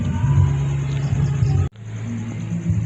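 A flood-soaked motorcycle engine, with water in the combustion chamber, rumbles steadily after a kick-start, cuts out abruptly for an instant, then picks back up and keeps running with a low, uneven drone.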